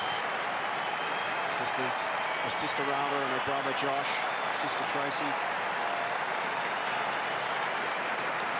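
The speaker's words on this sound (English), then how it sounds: "is getting a standing ovation. You might hear it and see it on your screens right now." A stadium crowd at a Fremantle versus Geelong football match gives a standing ovation, with sustained distant applause and crowd noise running under a commentator's voice.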